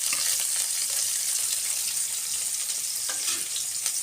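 Precut onions fry in a pan with a loud, continuous sizzle and crackle, and a few soft stirring sounds show up toward the end.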